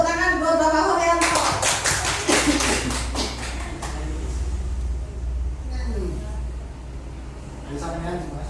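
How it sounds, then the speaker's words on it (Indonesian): A school audience claps to welcome a speaker, a burst of hand claps that rises after talk and then thins into a steady patter, with voices over the start and the end. "kita beri tepuk tangan buat Bapak Horyanto"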